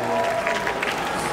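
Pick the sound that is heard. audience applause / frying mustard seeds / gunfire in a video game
audience applause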